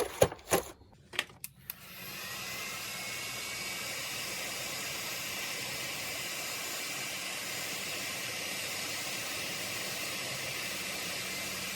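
A heat gun heats old spikes on a pair of golf shoes. A few sharp handling knocks come first, then the gun starts up and blows a steady, fairly quiet hiss of air that runs on for about ten seconds with no talk.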